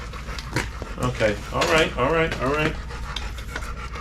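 A pet dog, a little male pup, pants close by in a garage during a Corvette engine teardown, steady breathy panting running under a man's speech throughout.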